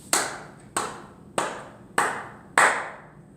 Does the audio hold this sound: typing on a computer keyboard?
no